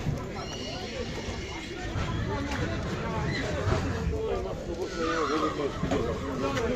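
A draft horse whinnies amid a steady murmur of voices and crowd noise at a horse market in Pajęczno, Poland, with faint hoof clopping in the background.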